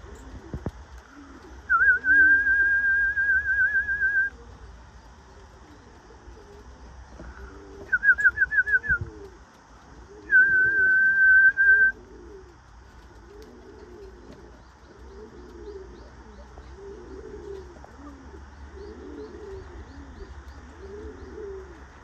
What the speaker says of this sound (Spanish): Un palomo que compré en Murcia